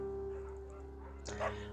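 A beagle in the video game Firewatch gives a short yip-like bark near the end, rising briefly over a steady droning tone and soft background music.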